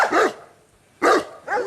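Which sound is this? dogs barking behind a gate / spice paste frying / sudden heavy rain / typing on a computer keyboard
dogs barking behind a gate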